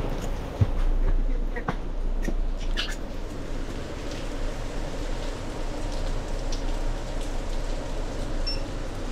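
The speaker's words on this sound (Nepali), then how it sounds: "पानीले त भिजाइ गयो नि" Steady rain falls outdoors in Korea, a dense, even hiss of drops that holds for the whole stretch with no pauses.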